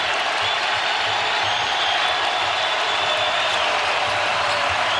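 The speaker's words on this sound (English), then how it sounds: "a collective awe comes from the crowd" A basketball arena crowd at a Creighton home game against Xavier lets out a steady, broad wash of murmuring noise and scattered cheers, filling the space continuously without a clear peak.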